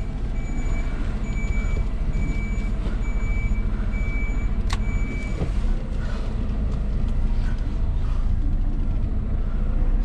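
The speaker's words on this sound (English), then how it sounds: "There we go, get that trailer in there." HGV lorry reversing a trailer, its reversing alarm beeping in a steady rhythm of repeated tones over a loud continuous diesel engine rumble, with a brief sharp hiss partway through.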